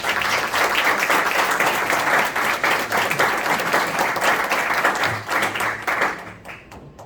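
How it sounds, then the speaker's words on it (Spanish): Sustained applause from an audience at a municipal waste management session, dense steady clapping that fills the whole stretch and thins out toward the end. "Quiero que le demos un fuerte aplauso."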